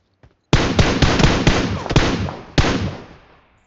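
Gunfire in the BGMI mobile battle royale game: loud, close bursts of rapid shots crackle in quick succession, pause briefly, then a final volley fades out.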